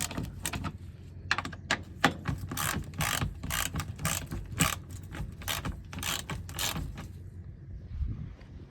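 A hand ratchet loosens the undertray bolts beneath a Range Rover L322 HSE with a Jaguar V8 during an oil change, giving a rapid, close run of clicking pawl strokes in uneven bursts.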